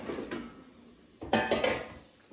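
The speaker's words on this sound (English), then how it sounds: "let's take out the air fryer basket and flip the potstickers to the other side" A soft clunk as an air fryer basket is pulled out, then a louder cluster of metal-on-metal scrapes and clinks while frozen potstickers are flipped inside it, close and brief.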